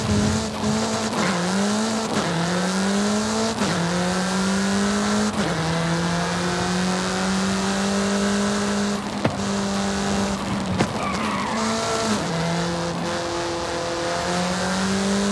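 A Bohl (VUHL) ultralight sports car races along a Mexican country road in Forza Horizon 5, its engine repeatedly climbing through gears with sharp shifts and brief tire squeals, loud and continuous with no speech.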